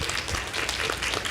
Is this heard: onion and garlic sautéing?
no